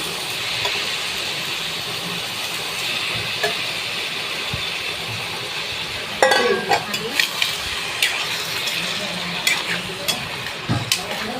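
Chicken liver sizzles steadily in a hot pan for a salted stir-fry. A spatula scrapes and stirs in sharp clustered bursts in the second half, all close and alone without talk.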